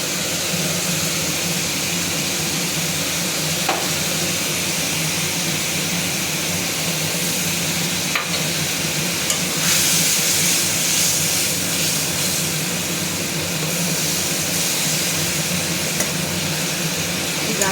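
Spice masala with a pinch of sugar fries in oil for a grated taro dish, a steady loud sizzle and hiss running throughout with occasional faint stirring scrapes.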